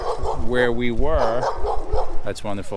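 A dog barks and yips in several quick bursts at an RV campground, loud and close, partly overlapping a person talking.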